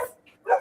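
A dog at an animal rescue gives two short, close barks, the second louder than the first, with brief quiet between them.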